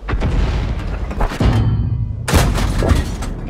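Churchill tank cannon firing in a video game: heavy booming blasts with rumbling tails, one deep thud near the middle and another loud, crashing shot later, loud and close.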